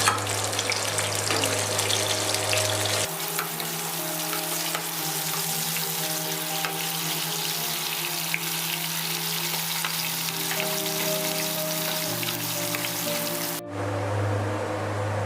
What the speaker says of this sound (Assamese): ইয়াৰ পিছতে আমি আলুখিনি ভাজি লওঁ।